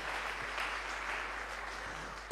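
A congregation at a KKKT Kariakoo morning church service applauds: a steady, moderate wash of clapping throughout, ending in a sudden louder burst up close.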